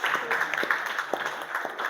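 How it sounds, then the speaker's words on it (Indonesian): A classroom claps for group 4 after a biology presentation, a short burst of moderately loud clapping from a group that continues evenly for about two seconds. "Tepuk tangan kelompok 4."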